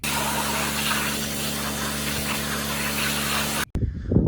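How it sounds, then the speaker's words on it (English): Pressurized water spray rinses old gas and grease off a Yamaha WR 250 dirt bike, a loud steady hiss with an engine-like hum beneath that cuts off abruptly near the end. "after giving it a quick rinse just to get the old gas stuff off of there and some of the grease"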